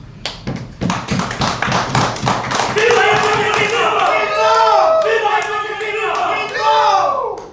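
Audience clapping at a Ugandan political gathering: a run of sharp, close claps and thumps gives way to crowd cheering and voices, loud and busy throughout.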